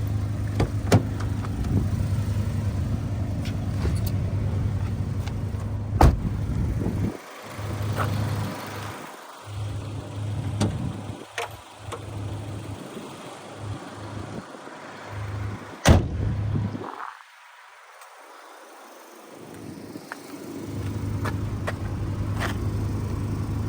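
A 1996 Honda Orthia GX-S with AWD and a B20B engine is driven on a short run. A steady engine and road rumble carries throughout, broken by occasional sharp thumps and a brief dip in noise.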